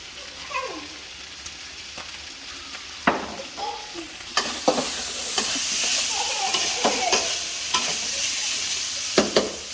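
Thai stir-fry sizzles loudly in a pan as Maggi seasoning and oyster sauce are added, with repeated sharp spatula scrapes and clanks over a constant frying hiss, no voices.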